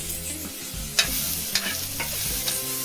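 Red beans gravy sautés in a pan, a steady close sizzle of frying with a few sharp stirring scrapes at regular intervals.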